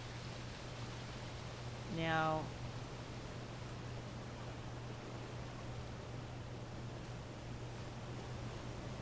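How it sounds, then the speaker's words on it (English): A waterfall in the video game Obduction gives off a steady, even rush of falling water throughout, and a voice briefly speaks over it. "There's a waterfall."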